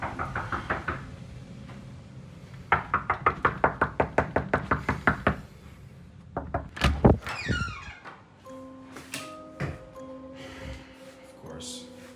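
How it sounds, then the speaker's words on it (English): Knocking on a bathroom door: a few scattered knocks, then a fast, loud run of about a dozen even raps, followed by a heavy thump and some scraping. A soft voice is heard. "Here's a clip of me hearing disturbing knocking on the bathroom door, but when I check, there is nobody there."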